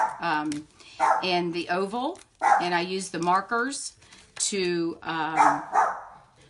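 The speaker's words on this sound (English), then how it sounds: "I apologize for the dog." A dog barks intermittently in the background of a home card-making session while a person talks steadily over it, the barks partly masked by the voice.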